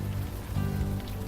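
Steady rain falls on city streets at night in the game Unavowed, a dense, even hiss and patter filling the short moment with no voices.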